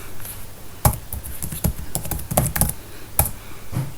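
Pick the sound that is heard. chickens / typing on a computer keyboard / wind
typing on a computer keyboard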